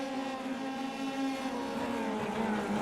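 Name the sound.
race cars at speed in iRacing video game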